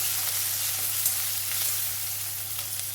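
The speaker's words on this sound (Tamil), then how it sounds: "நல்லா வெங்காயம் வதங்கட்டும்" Onions with green chilies and salt sautéing in a hot pan for a Tamil broad beans tamarind curry, a steady, close sizzle and crackle running throughout with no talking.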